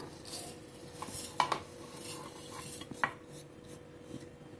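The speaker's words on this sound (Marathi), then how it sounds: "मिक्सरच्या जारमध्ये आता आपण हे ओट्स टाकून घेऊया संपूर्ण" Rolled oats tipped into a mixer jar, with soft rattling and a couple of sharp clinks of the container and spoon against the jar, close by and alone.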